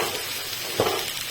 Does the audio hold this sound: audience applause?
no